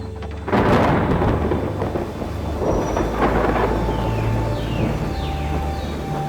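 Thunder rumbles loud and close over steady falling rain in a cartoon storm scene, with a deep sustained roll that stays heavy throughout and a few bird chirps faintly above.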